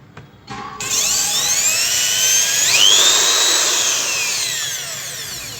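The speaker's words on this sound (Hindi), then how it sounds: "तो चलिए अब मैं इसको उल्टा घुमाता हूँ।" Electric drill machine spinning in reverse, starting with a few clicks then a loud steady high-pitched whine that rises in pitch as it speeds up and holds, close and with no talking.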